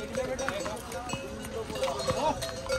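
Horse hooves clop along the mountain trail to Hemkund Sahib, an irregular patter of light knocks mixed with people talking nearby and outdoor background noise.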